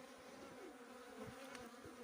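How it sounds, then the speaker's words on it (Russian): A bee buzzes while taking water at a drinking trough, a faint, steady hum with small shifts in pitch as it hovers close by. "Пчела активно берет воду."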